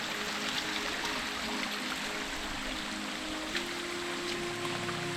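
A shallow stream rushes over rocks at a water crossing on a trail to Devkund Waterfall in Tamhini Ghat, a steady nearby wash of flowing water with no voices.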